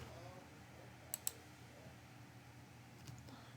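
Two quick, sharp computer mouse clicks close together, with another faint click a couple of seconds later, all quiet against a low hum.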